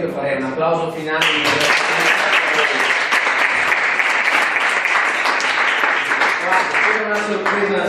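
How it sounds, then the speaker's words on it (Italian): A lecture audience on supply chain management bursts into sustained final applause, dense loud clapping from many hands that follows a brief spoken line and holds steady before tapering as a voice returns. "Allora io farei un applauso finale."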